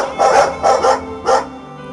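A dog barks loudly and hoarsely in three or four close, forceful bursts, one after another, with no voices over it.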